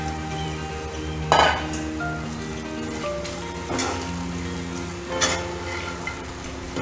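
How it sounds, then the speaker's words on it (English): Fried cauliflower pieces for cauliflower 65 drop into a hot pan with a steady sizzle, with a few metallic scrapes and stirring clanks over the frying hiss. "We need to add the fried gobi into this."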